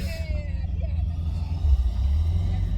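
A VR6 car fitted with a GT35 billet clone turbo pulls away at the start of a test drive, a low engine rumble thickening and growing louder toward the end of a brief stretch.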